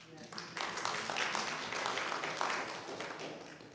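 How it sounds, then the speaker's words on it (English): Moderate applause ripples through a church congregation during a Sunday service, a soft, even patter of many hands clapping at a fair distance for several seconds. "so I will clap"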